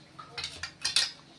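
A metal spoon stirs tomato puree and water in a mixer jar, giving a few light clinks and scraping strokes against the sides, close and fairly quiet, with no talking.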